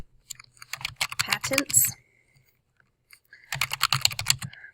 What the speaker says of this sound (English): I'll type it in so we can try to remember it.